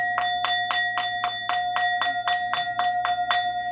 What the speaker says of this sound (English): let me just ring the bell